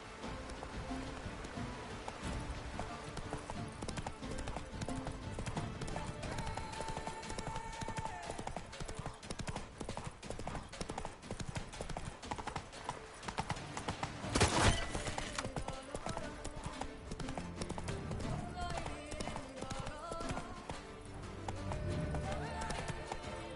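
Horse hooves clip-clopping at a steady gallop in The Witcher 3, with a continuous dense rhythm of footfalls mixed with game ambience and a brief louder impact midway.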